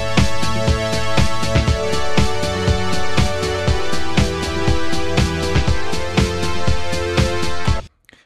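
A Logic Pro ES2 soft synth plays sustained chords over a steady drum beat with no automation, its kicks and hats punching evenly through the tones for about eight seconds before stopping abruptly.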